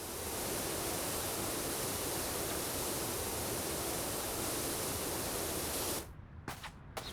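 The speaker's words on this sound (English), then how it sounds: "So yeah, we power washing here." A pressure washer in PowerWash Simulator sprays in one loud, continuous rushing hiss for about six seconds, then cuts off, leaving a few short sputtering bursts.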